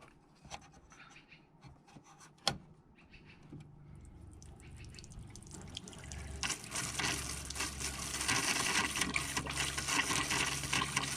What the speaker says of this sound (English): Now that we have the freshwater tank drain open, we go over here and we start the pump